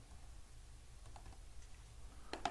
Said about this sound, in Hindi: नीचे आपने ये वर्ड टाइप करना है